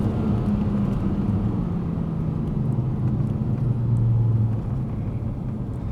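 A freshly rebuilt BMW Z4 M Roadster's inline-six engine revs toward 5,000 RPM, a steady, full-bodied rumble that swells slightly in pitch and loudness, heard from close by inside the car.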